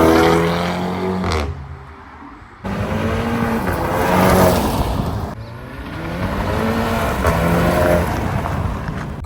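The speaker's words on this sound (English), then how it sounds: "pure engine noise, and it sounds amazing" A Volkswagen Scirocco R engine revs hard through several gears, climbing in pitch, dropping on each shift, then pulling again, loud and close, with a brief quieter lull.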